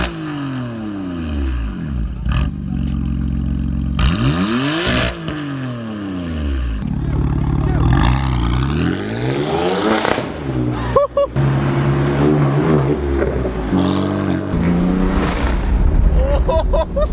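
A BMW F82 M4 fitted with an ARMYTRIX valvetronic exhaust revs repeatedly, its engine sweeping up and dropping back in loud, close bursts with some clatter, while voices talk over it.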